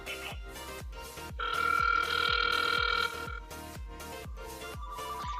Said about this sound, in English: now you can hear my other phone ringing